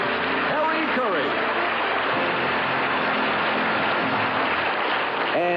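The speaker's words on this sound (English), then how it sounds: "Let's bring him back right now with a good round of applause" Sustained applause from a 1970s television quiz show studio audience, steady and dense throughout, with faint voices or music tones layered underneath.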